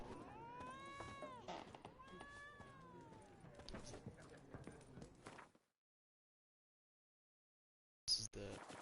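Cat meowing in The Witcher 3, a run of drawn-out, wavering meows up close over game ambience, then silence and a short sharp burst of sound near the end.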